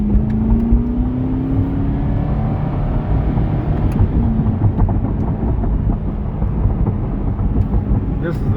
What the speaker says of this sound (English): first drive in the C8 Corvette